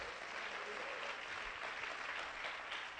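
A church congregation applauds loudly during a sermon, a dense, steady wash of clapping that fills the whole stretch without a break.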